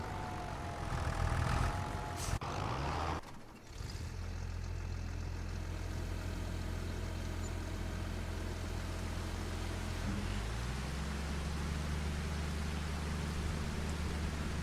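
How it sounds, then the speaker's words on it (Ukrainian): Rain in the farming game Farming Simulator 25 hisses as a steady, broad wash over a low idling farm-machine engine hum, after a brief burst of other sound at the start. "Ой, дощ."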